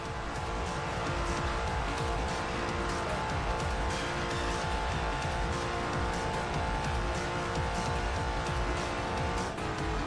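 Jaguar F-Type Project 7 engine roaring loud and steady as it corners and brakes around the Nurburgring in the mobile racing game Racing Master, tires squealing with a grip-driving line, continuous for the whole stretch without any talk.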